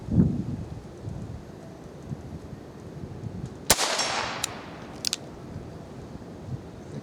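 A single sharp handgun shot cracks at a swinging bullseye target outdoors, a fairly loud report with a short trailing echo, followed by a faint metallic clink amid quiet wind and rustle.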